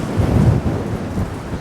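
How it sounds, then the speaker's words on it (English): Gusty seaside wind rumbles loudly against the microphone in low, blustery bursts, with no talking. "it's way more windy here"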